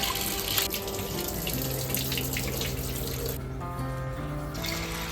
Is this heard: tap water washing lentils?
yes